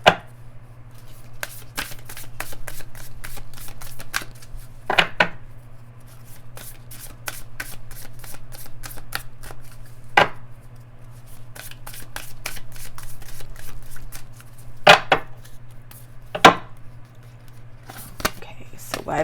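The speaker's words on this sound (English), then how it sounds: "I'm going to pull some oracle cards. These are the Moonology oracle cards." Moonology oracle cards are shuffled by hand in a quiet room, giving soft riffling with several sharp slaps and taps at irregular moments over a steady low hum.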